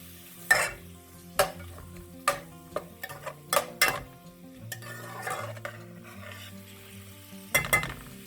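Carrots, peppers and shallots for soup cook in a pan, giving a low sizzle broken by sharp, irregular clinks and scrapes of a spoon stirring against the pan, close and with no voices.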